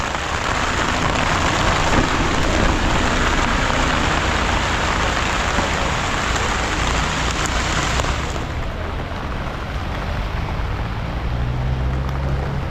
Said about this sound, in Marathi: पाऊस चांगलाच झाला अजून बी येतोय पाऊस